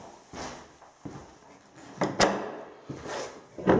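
A door opening inside a farmhouse at the Grosmont campsite gives a series of soft wooden clunks and scrapes, then a sharp click of the latch, heard nearby in a quiet room.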